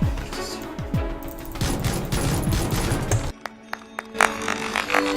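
Rapid volleys of gunfire crackle in PlayerUnknown's Battlegrounds, a dense burst of shots followed by a few sharp single pistol reports after a brief drop in the noise.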